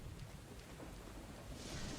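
Steady rain falls in a video game with thunder rumbling low underneath, a continuous hiss that swells slightly toward the end.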